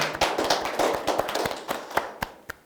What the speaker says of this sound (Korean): 우리 다 같이 감사의 박수 한번 올려주시기 바랍니다